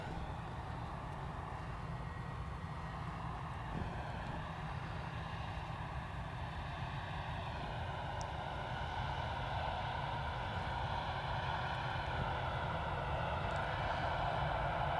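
Jet2's 37-year-old Boeing 757 airliner taxis past on its final arrival, a steady, fairly distant engine roar and whine holding level and continuous throughout.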